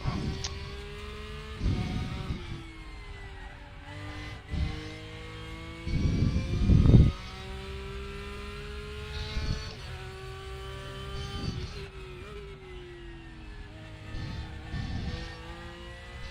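An engine in the RaceRoom racing game sustains a steady race-car drone, rising and dipping in pitch as the throttle works, with several sharp thumps and bursts scattered through the run and no voices.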